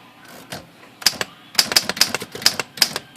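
An Underwood typewriter, freshly serviced and repaired, typed on with a quick, irregular run of sharp, close metallic keystrikes and clacks after a short pause.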